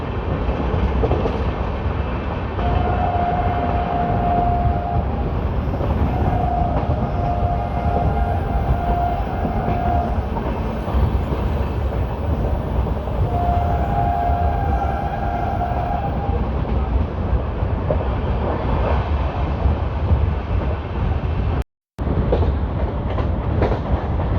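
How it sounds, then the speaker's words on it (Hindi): An LHB express train on the Hoshiarpur–Agra Cantt route rumbles and clatters loudly at a crossing, wheels clicking over rail joints in a steady roar, with a horn sounding in a few long blasts partway through. "तो दोस्तों अभी क्रॉसिंग होने वाली है होशियारपुर आगरागंज होशियारपुर एक्सप्रेस से।"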